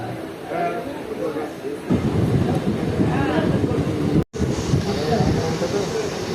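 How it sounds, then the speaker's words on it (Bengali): Inaugural special train running at speed after leaving Azimganj Junction, a loud steady rumble and roar with wind buffeting the microphone, heard from on board, with a brief dropout near the end. "আজিমগঞ্জ জংশন ছাড়ার পর আমাদের ট্রেন খুব ভালো স্পিড নিয়ে নিয়েছে"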